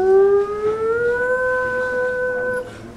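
A civil defense siren sounds a tornado warning, a steady wailing tone that rises slowly and holds, loud and clear throughout with no voices.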